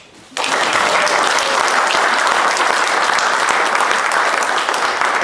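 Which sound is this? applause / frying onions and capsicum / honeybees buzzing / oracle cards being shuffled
applause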